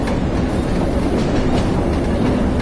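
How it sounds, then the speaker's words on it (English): Locomotive rumbling along the track in Train Sim World 2020, a steady loud rolling roar with faint rhythmic wheel clatter and no voices. "I'm going to have to use the loco brake for this."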